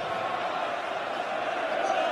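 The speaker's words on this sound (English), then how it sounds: "Crowd in great voice in Sheffield." A darts crowd at a Premier League Darts night in Sheffield makes a steady, broad roar of cheering and chanting that fills the whole stretch at an even level.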